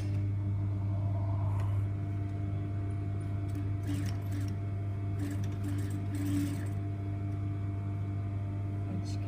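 Sewing machine running a side seam with a one centimetre allowance, a low steady motor hum with faint intermittent stitching bursts in the middle, quiet and without talk.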